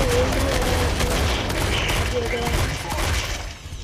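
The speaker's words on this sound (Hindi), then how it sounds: "मैंने कार में मिसाइल चला दिए यार, रेवेंज ले लिया" Missiles and weapons fire in the mech combat game Mech Arena make a dense, loud barrage of blasts and rattling shots, with a player's voice talking over it before the noise eases at the end.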